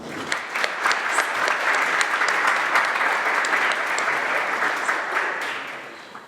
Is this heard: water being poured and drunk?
no